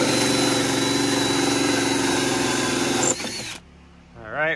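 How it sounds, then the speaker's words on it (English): Power drill boring holes into a 28ft sailboat, a loud continuous whirring run that stops after about three seconds, followed by a brief quieter pause and a short burst of voice. "wouldn't be a Sam Holmes sailing episode without drilling some holes in my boat"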